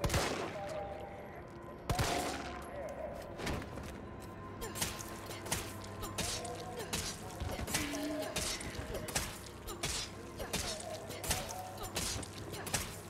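Gunfire from Resident Evil 3 (2020) rings out as repeated shots in bursts over a steady game-world background of music and ambience, loud and near.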